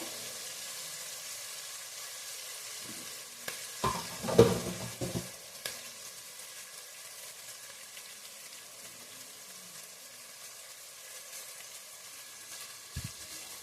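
Ingredients for avarekalu pulao frying in a pan, a quiet steady sizzle broken by a brief burst of stirring and scraping near the middle, with no voices.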